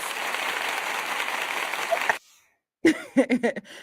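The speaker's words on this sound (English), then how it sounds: "can I get an applause?" Audience at a podcasting workshop claps briefly for about two seconds, the applause cutting off abruptly into silence before a few close voiced sounds follow.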